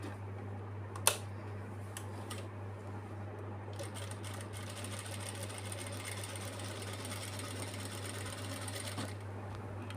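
A sewing machine runs steadily, stitching around the border of a small child's lehenga, with a constant motor hum and fine rapid ticking throughout and a sharp click near the start; no talking.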